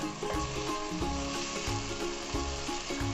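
Mutton liver masala (kaleji) frying in a pan with salt added, a steady loud sizzle with scraping stirring strokes, no voices.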